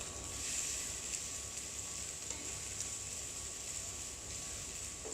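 Onions frying in a big pot over low to medium heat on an induction cooker, a steady soft sizzle with a continuous hiss running throughout and no talk.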